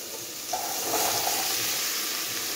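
Bitter gourd and pumpkin hit hot oil in a frying pan with a steady, close hiss and sizzle that swells slightly as the pieces go in and keeps crackling with no talking.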